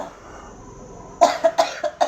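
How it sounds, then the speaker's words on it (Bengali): After about a second of near-quiet, a person at home coughs in a quick run of about five sharp, close bursts. "আর কি কাশি ঢুকছে রে"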